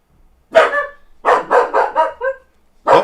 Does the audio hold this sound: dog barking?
yes